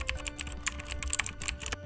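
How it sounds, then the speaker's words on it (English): Computer keyboard typing, a quick irregular run of light clicking keystrokes, close and fairly quiet, with nothing else heard. "I know it's you typing"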